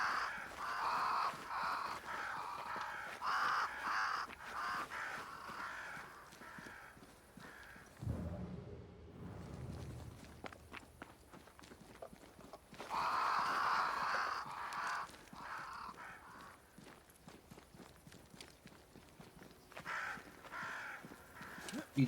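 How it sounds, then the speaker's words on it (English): Crows caw repeatedly in the video game Banishers: Ghosts of New Eden, harsh calls in bursts over an outdoor ambience, fading briefly mid-clip before the flock resumes, moderately loud and somewhat distant. "Crows."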